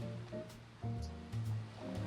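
Water of La Presidenta river in Medellín's Provenza district rushes in a steady, faint wash, with low rumbling swells under a quiet urban backdrop and no speech.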